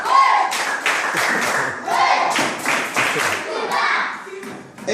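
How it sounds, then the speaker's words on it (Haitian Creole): A small crowd at a Sunday afternoon arts club gathering applauds for Didi, with dense, close hand clapping that continues for several seconds, mixed with voices and children's chatter. "On applaudit Didi"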